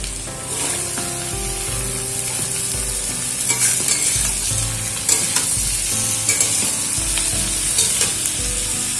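Chopped bottle gourd stir-fried with already-fried potatoes in a hot pan, a steady loud sizzle broken by repeated scraping stirs and clatters of the spatula, with no talking.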